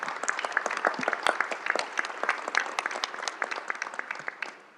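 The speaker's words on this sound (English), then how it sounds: "I would like to give all of our panel, please, a very, very warm round of applause for their contributions." A plenary-hall audience applauds a ministerial panel at an IRENA assembly, with steady, moderately distant clapping that stays even and then tapers at the end.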